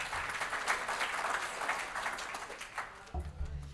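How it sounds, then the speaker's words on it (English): An audience at a cruise meet-and-greet in Adelaide breaks into sustained applause, a dense wash of claps that ends abruptly as a voice begins speaking. "I think we'll give Brooke a round of applause"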